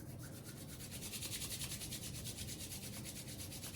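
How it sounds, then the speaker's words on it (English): Palms rubbed briskly together during a qigong face massage, a steady close dry swishing friction that pulses in quick even strokes for several seconds with no talk. "we'll clap the hands and rub the hands together"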